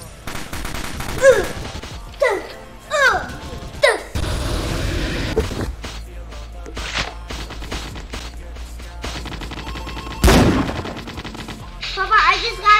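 Bursts of gunfire in a Roblox shooter game come in irregular volleys of loud shots and rapid fire, with crashing impacts and a dense heavy barrage near the end, and no speech over it.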